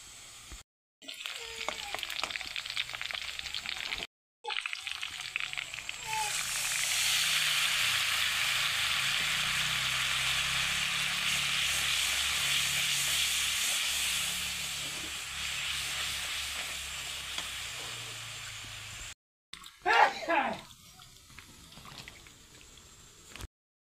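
Turmeric, chili powder and other spices fry in a hot pan, giving a loud, steady sizzle and hiss that lasts for many seconds, with brief stirring clatter at the start and near the end.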